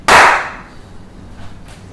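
One sharp, loud hand clap used to sync an H6 audio recorder to a camera inside a cottage room, followed by a short fading ring and quiet room tone.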